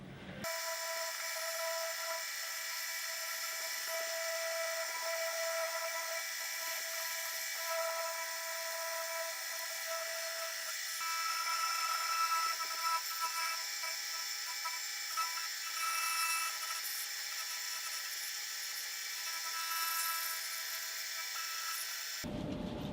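A machine cuts a slot in a back panel, a steady high-pitched whine running continuously and fairly quietly for about twenty seconds, then stopping abruptly.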